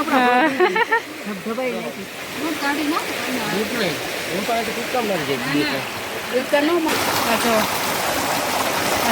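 A forest stream rushes steadily in the background while several people talk over it nearly throughout.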